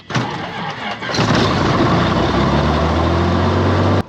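A Cessna 182 piston aircraft engine cranks briefly, then catches and fires up, settling into a loud, steady idle rumble that holds close and unbroken to the end.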